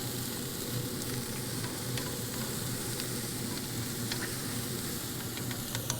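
Vegetables sizzle and crackle in hot olive oil in a pan while being stirred, a dense steady frying hiss with scattered pops, close and continuous without any talking.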